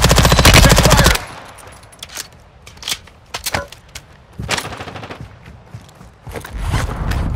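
Call of Duty gunfire: a loud, dense burst of rapid automatic fire opens, followed by scattered single cracking shots of varying distance, and another sustained burst at the end.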